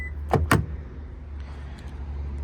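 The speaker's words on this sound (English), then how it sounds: "we'll turn off the car, close the door, and lock it" A Toyota car door shuts twice in quick succession with sharp thuds, followed by a faint click and a short electronic lock chirp, all close by with a low background hum.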